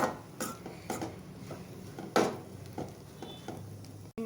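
A utensil scrapes and knocks against a pan at a steady rhythm while cooked rice is stirred into an egg mixture, close up and fairly loud over a soft sizzling bed, with no talking.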